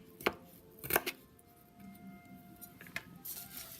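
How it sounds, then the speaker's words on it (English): Knife chopping garlic on a cutting board for Italian stuffed mushrooms: a few sharp separate chops, close and distinct, with quiet kitchen clinks between them. "we're going to chop up garlic"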